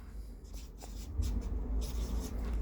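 Pen scratches steadily across paper sheets while notes are written by hand during a washing machine control board repair, a close, dry scribbling with short pauses between strokes over a low background hum.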